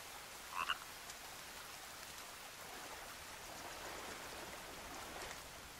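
A frog croaks a couple of times early on in The Forest, a short near call over a steady hiss of forest ambience like running water or rain.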